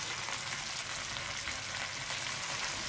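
Chicken karahi meat fries in a pan with a loud, dense, continuous sizzle, close and steady throughout, with no voices.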